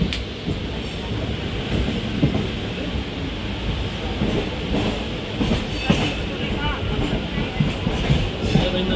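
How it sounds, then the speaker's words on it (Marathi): A Mumbai local train running from Kalyan toward Karjat, a constant loud rumble with rattling carriages and faint clickety-clack, heard from inside with muffled voices in the background. "अशा प्रकारे मुंबईची लोकल आहेत मुंबईमध्ये"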